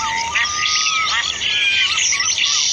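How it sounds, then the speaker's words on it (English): Birds chirp and tweet continuously in a bright, busy chorus, with several overlapping calls and whistles near and fairly loud, used as a sound effect of birds flying across the sky. "Then God made birds to fly across the sky."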